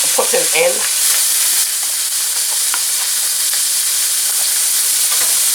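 Onion pieces and leftover ham frying in a pan, a loud continuous sizzle and hiss with a brief burst of louder crackling at the start as the onion goes in.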